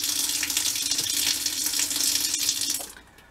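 Water pours from a tap fed by an Airthereal 9 kW electric tankless water heater, a steady close hissing splash that cuts off near the end, leaving quiet.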